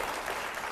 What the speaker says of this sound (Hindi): तालियां होनी चाहिए पहले इस पर।